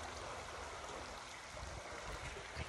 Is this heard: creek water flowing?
yes